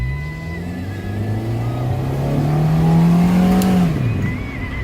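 A sports car engine on a deserted road revs up hard and climbs steadily in pitch as it accelerates, then drops off sharply as it eases off.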